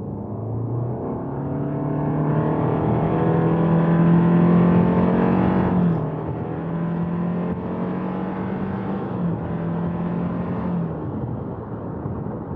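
A 2018 Subaru Outback 2.5i-S estate accelerates toward 100 km/h, its engine droning steadily and rising in pitch, with a brief drop around a gear change before the drone resumes under road noise, heard from inside the cabin.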